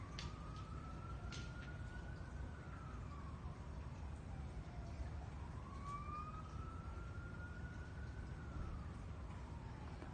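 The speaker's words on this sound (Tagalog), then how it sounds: "Hala, Pongpong, may pulis." A police siren wails outside, faint and distant, rising and falling in slow sweeps over a steady background hiss.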